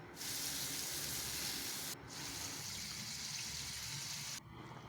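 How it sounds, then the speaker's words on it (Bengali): Water poured into frying spiced masala with curry leaves and salt for a rohu fish curry, a steady loud gushing pour that breaks off briefly near two seconds and eases near the end. "কারি পাতা, পরিমাণ মতো লবণ দিয়ে মশলাটা কষিয়ে এবার জল দিয়ে দিলাম।"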